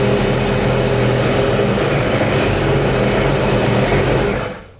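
A Sea-Doo 300 RXT personal watercraft engine runs loud and close, a steady rough drone held for several seconds before it cuts off at the end.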